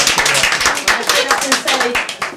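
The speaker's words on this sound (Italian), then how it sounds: "grazie per un applauso" Brief applause from a small audience at the start of an advanced digital photography class session, quick clapping that rises and falls over about two seconds with speech overlapping.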